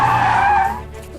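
Tires squeal loudly as a car skids to a halt, the screech fading out within about a second.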